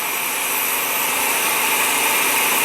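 A Nissan Frontier engine idles steadily after a thermostatic fast idle solenoid repair, a continuous, smooth, close-up whir and hiss holding a constant level throughout with no talking.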